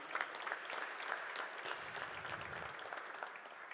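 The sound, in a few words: round of applause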